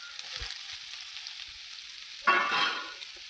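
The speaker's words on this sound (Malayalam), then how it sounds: "സവാള കൂടെ തന്നെ പച്ചമുളക് ഇട്ടേക്കാം" Sliced onion and green chilies hit a hot oiled pan, setting off a sudden loud sizzle that starts abruptly and then slowly fades, after a few faint clicks in near silence.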